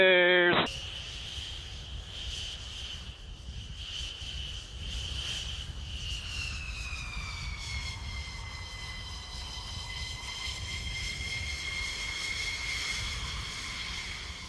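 An F-16 fighter jet takes off and climbs, its engine giving a loud, steady, high-pitched whine whose tones shift slightly as it climbs, continuous from start to finish.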